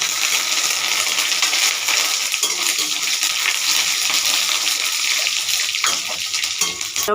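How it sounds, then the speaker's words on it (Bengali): Flattened rice fries in hot oil at home, giving a loud, continuous crackling sizzle with scattered bright pops and clinks, close up and without talk. "তেল গরম হয়ে গেছে, আগে ভাজবো।"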